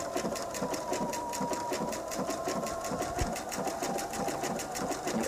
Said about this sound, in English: back to sewing